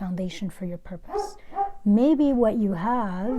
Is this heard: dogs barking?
yes